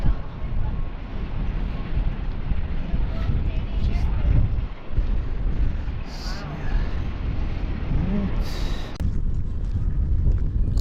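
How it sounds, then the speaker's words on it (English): Wind blows across the microphone outdoors at an aviation museum in Western Canada, making a constant low, rough rumble under a man's ongoing speech. "It's actually real windy right now."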